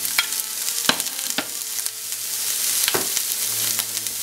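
Celery frying in a warm pan with a couple tablespoons of olive oil, a steady bright sizzle with occasional stirring clatters and spatula knocks, close and fairly loud, no talking.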